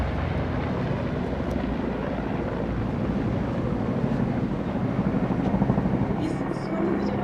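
Rudra formation helicopters pass overhead in a Republic Day flypast, giving a loud, steady rotor and engine roar with wind buffeting and a commentator talking underneath.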